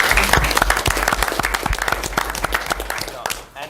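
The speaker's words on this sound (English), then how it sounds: "let's applaud" Audience applause breaks out at a township council reorganization meeting, a dense patter of clapping hands that stays loud and steady, then thins and fades near the end, with some voices mixed in.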